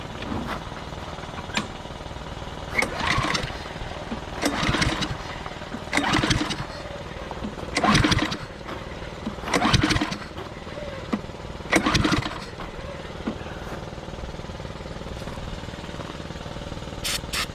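A Cub Cadet lawnmower engine is pull-started repeatedly without firing, giving a series of rhythmic cranking bursts roughly every two seconds over steady background noise, with no catch or idle.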